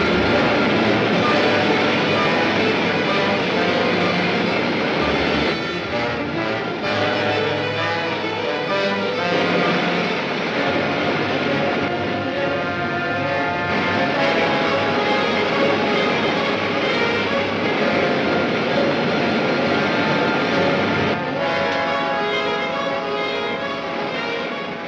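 Rocket main jets firing with a loud, continuous roaring rush and hiss that holds steady throughout, mixed with dramatic music and no talking.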